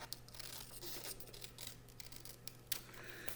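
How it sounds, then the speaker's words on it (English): Scissors cut through folded paper along a crease to make tangram pieces, giving faint, close snips and crinkles in a quiet room. "you're going to take your scissors and cut up the crease"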